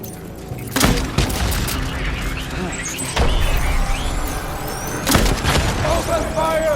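Gunfire in the video game Death Stranding: sharp shots and heavy booming bursts crack out at intervals over a loud, continuous rumble of battle, close and forceful.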